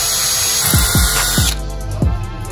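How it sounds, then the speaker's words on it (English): A power drill pre-drills through an aluminium glass frame into its screw track, giving a steady close whine with several sharp bursts as the bit bites, then the motor note drops partway through. "So I pre-drill in through here, right into that screw track."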